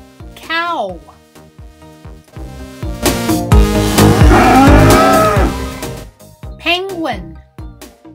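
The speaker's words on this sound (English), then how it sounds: "Cow." A cow moos loudly and up close in one long, drawn-out low call, set between brief bits of a voice and a light musical backing.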